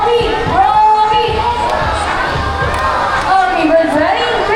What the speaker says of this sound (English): And all of our boys, let's cheer for Rocky